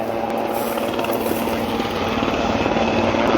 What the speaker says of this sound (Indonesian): Untuk saat ini pantauan di lapangan baru satu unit helikopter yang melakukan waterbombing.